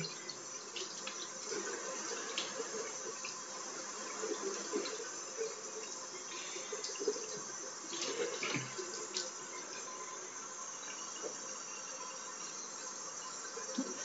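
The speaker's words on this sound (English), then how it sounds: "So do this until the water runs clear then." Tap water runs steadily into a sink while make-up brushes are rinsed under it, a continuous broadband splashing hiss at moderate level with small surges, and no voices.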